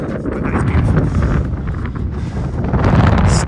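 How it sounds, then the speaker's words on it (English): Cold wind buffets the microphone on a high mountain pass along a long-distance trail, a loud, steady low rumble with gusty swells and no talk. "So, getting a bit windy, quite cold, not going to stay here too long."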